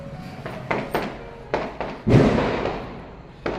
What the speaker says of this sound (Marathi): फटाक्यांचा आवाज तुम्ही ऐकू शकता मित्रांनो